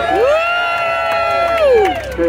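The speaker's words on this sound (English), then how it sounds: "Give yourselves a round of applause." Riders aboard a Disneyland Jungle Cruise boat cheering and whooping, a loud burst of excited shouts and crowd voices close by, sustained for a couple of seconds with a fresh whoop at the end.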